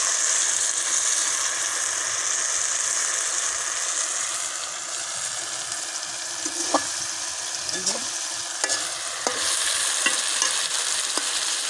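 Gima greens and potatoes frying in oil in a village kitchen, a loud continuous close sizzle with occasional scraping of a spatula against the pan, and a voice speaking briefly.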